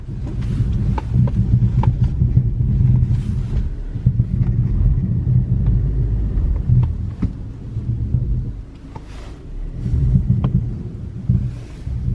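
Car engine rumbling low and steady as the vehicle pulls over on a snowy Canadian road, with wind buffeting and occasional clicks and knocks over the continuous drone, no speech.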